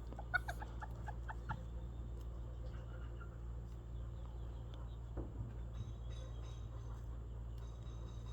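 Bantam chickens, two hens and a rooster, cluck in short bursts near the start, then quieter clucks scattered over a steady low background hum outdoors in a garden.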